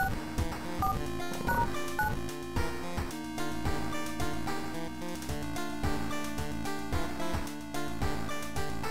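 Phone number dialed in the video game World of Horror, a run of short electronic keypad tones in quick succession over a looping musical backing.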